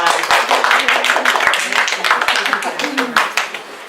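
A group claps in a round of applause, with quick overlapping hand claps at close range mixed with voices talking.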